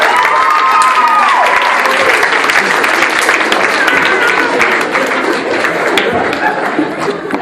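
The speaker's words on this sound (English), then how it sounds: "give our little third graders a big round of applause." Loud crowd applause at a birthday hypnosis show, sustained clapping mixed with cheering, chatter and a few chuckles, fading slightly toward the end.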